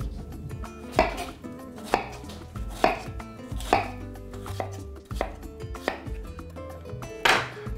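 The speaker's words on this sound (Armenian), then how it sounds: "Կտրատում ենք մանր" A knife finely chopping apple on a cutting board, with about eight crisp, evenly spaced chops, each a sharp thud close by, no voices.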